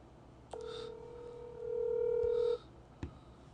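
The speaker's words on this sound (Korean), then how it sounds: "흥민한테 한번 전화해볼게요" A telephone call tone sounds as one long, steady electronic beep lasting about two seconds, ending with a brief click, quiet and with no voices.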